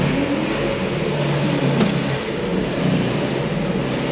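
A lorry engine runs at a steady mid-pitched drone close by on a farm while the lorries are loaded with wheat seed, rising slightly in revs, with no voices.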